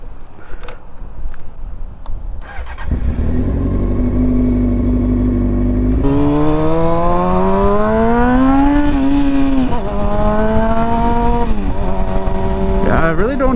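Motorcycle starting up and riding off, the engine catching after a quiet moment, then a loud steady drone that rises in pitch through the gears as it pulls away, close to the listener.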